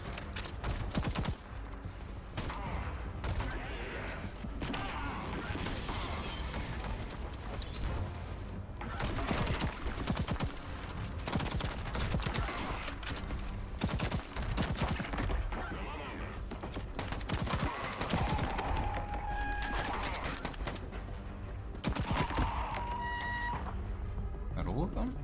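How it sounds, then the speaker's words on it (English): Burst-fire weapon in the Voidtrain game shooting again and again, rapid clusters of sharp gunshots with impacts and mechanical clatter, while someone talks over much of the action. "I actually don't mind this burst fire."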